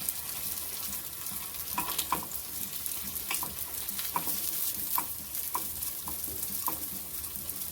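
Cheese balls cook in a pan over a low flame with a soft, steady sizzle, broken by light scrapes and taps as they are turned now and then. There is no talking.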